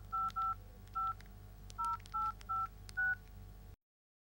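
A telephone being dialed for a call abroad: eight short, evenly spaced touch-tone beeps in quick succession, clear and close over a faint background hum, then silence.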